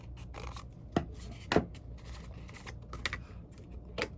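Scissors cut through paper in a handful of quiet, separate snips and rustles, close by and faint, with no talking.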